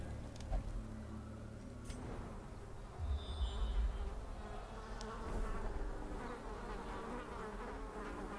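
A buzzing swarm from a thronging hive enemy in the dungeon-crawling video game Darkest Dungeon drones on continuously at a soft, steady level, with faint clicks and rattles mixed in and no voices.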